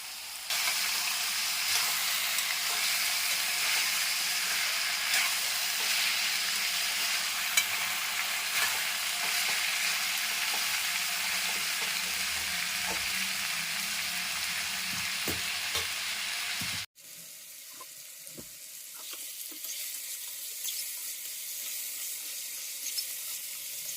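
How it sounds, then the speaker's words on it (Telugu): Half-boiled bitter gourd pieces fry in hot oil with a loud, steady sizzle for most of the stretch, then the hiss drops sharply and carries on much quieter near the end. "ఆయిల్ హీట్ అయినాక మనం హాఫ్ బాయిల్ చేసుకున్న కాకరకాయ పీసెస్ యాడ్ చేసుకొని ఇవి కొంచెం బాగా ఫ్రై అవ్వాలి"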